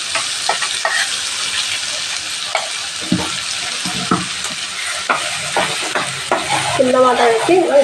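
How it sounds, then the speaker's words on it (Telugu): Steady sizzling of ground masala frying in a pan for an ivy gourd curry, with scraping stir strokes at intervals and a brief voice near the end. "మంచిగా ఫ్రై చేసుకోవాలి మొత్తం ఫ్రై చేసుకున్నాం"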